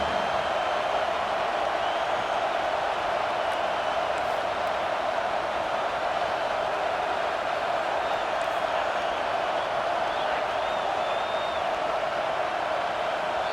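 A large stadium crowd at a USC vs UCLA college football game roars steadily and loudly throughout, a continuous dense wash of voices with no break.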